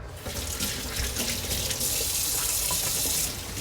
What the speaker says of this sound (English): Now sometimes you actually may want to wash your hands too.